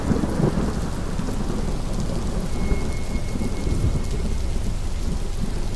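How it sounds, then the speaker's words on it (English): A rainstorm roars with a heavy, constant wash of rain while thunder rumbles loudly through it, the deep booming blending into the downpour for the whole stretch. "the storm resumed as before with a spectacular clap of thunder"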